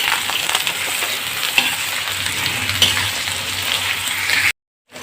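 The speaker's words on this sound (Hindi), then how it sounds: "बैंगन हमने डाल दिए, इनको फ्राई कर देना है।" Eggplant pieces fry in hot ghee with a continuous loud sizzle and crackle, occasional sharper pops, close up with no talking, cutting out abruptly near the end.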